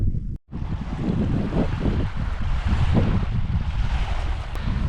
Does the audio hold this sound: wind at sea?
yes